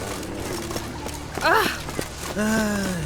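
Rhythmic hoof clip-clops of a horse in The Witcher 3: Wild Hunt under a man's speech, with a brief whinny-like vocal sweep in the middle.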